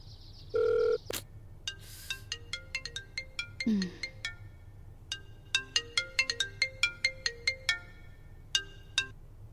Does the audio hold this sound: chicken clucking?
no